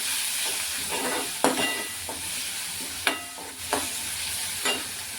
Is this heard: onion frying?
yes